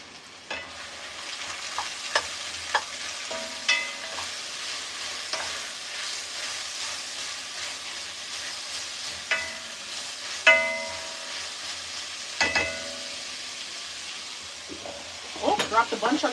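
Broccoli frying in a pan is stirred with a wooden spatula: steady sizzling runs throughout, broken by scattered clacks and scrapes of wood against the pan, close and moderately loud.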